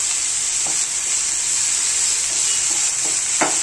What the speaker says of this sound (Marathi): आता हा बटाटा टाकायचा तिथे. हा तेलामध्ये चांगला फ्राय होऊन द्यायचा